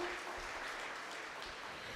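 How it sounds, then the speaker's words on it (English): Audience applause at a school debate competition, a soft, continuous patter of clapping heard throughout without voices. "A round of applause please for Machakos School."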